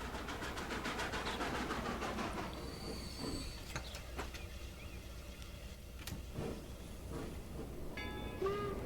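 A train rolls along in the video game Transport Fever 2, a continuous rumble with rhythmic clicking wheels, occasional squeals and a few brief tones, steady and moderately loud throughout.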